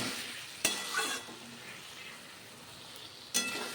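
Potatoes frying in a pan for Assamese rui fish tenga, a steady low sizzle with a few sharp clatters of a spatula or stirring utensil against the pan.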